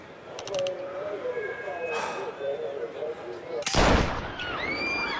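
A single loud rifle gunshot cracks out in the video game Mafia Definitive Edition, in the middle of mechanical clicks and tonal game sounds, with someone talking over the scene.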